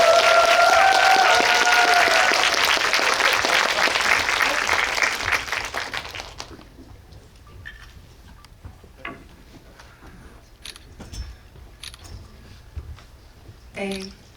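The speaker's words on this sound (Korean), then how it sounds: "봉준호 감독님 입장하실 때 큰 박수로 맞이해 주시기 바랍니다" A cinema audience at the Megabox COEX Dolby Cinema claps loudly to welcome director Bong Joon-ho, and the applause dies away after about six seconds into a quiet hall with scattered small clicks and shuffles.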